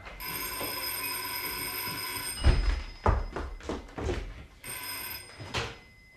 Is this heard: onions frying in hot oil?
no